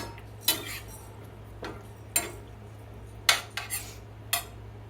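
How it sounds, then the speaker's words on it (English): Shrimp being stirred and coated with sauce in a pan, a few scattered metallic scrapes and clinks of a utensil against the pan over a low steady hum, close and quiet, with no voices. "we're going to coat this shrimp with this sauce"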